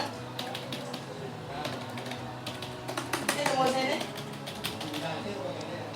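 Typing on a Logitech K251 Bluetooth keyboard: a steady patter of soft, close key clicks at an uneven rhythm, with a brief denser flurry midway.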